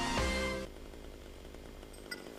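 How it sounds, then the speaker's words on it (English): A chainsaw in the video game GTA Vice City Stories revs loudly and close for about half a second, then cuts off, leaving quieter game ambience with a small knock near the end. "You have a chainsaw, and he has a bat"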